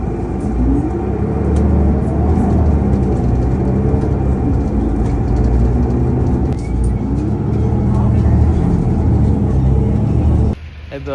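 Steady engine rumble and road noise from inside a moving bus, loud and continuous, with faint voices and a brief shift near the end.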